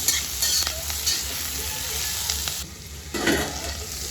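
Green chillies cook in a covered pan, a close, steady sizzle and frying crackle with a brief stirring clatter near the end.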